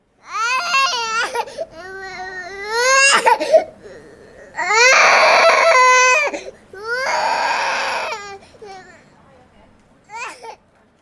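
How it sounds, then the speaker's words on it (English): A child crying and sobbing in bursts, with wailing rises and short breaths between, close and loud, ending in a brief whimper. "Someone else's child crying."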